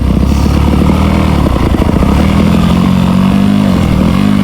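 Motocross motorcycle ridden on a dirt track, loud close engine revving and rattling continuously, pitch climbing as the rider accelerates.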